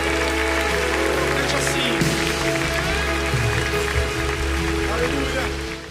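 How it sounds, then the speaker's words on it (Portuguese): A church congregation applauds after a closing prayer, a broad steady wash of clapping that holds for several seconds with speech and music-like tones running underneath. "Você pode aplaudir ao Senhor."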